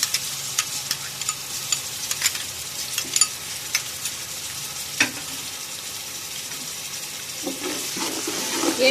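Garlic ginger paste fries in a pan while a kabsa is cooked, with a low, steady sizzle broken by scattered sharp clicks and scrapes from stirring.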